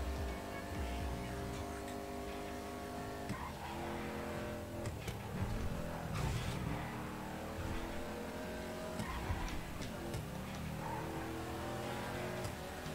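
A Coquette Classic sports car in GTA FiveM races at full throttle, its engine revving hard through rising and falling gear sweeps, loud and continuous with brief tire noise and no talk.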